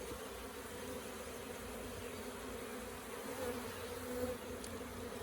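Honey bees crowd a beehive frame during a winter hive cleanup, a steady low hum of many wings that stays close and fills the whole stretch evenly, with no voices.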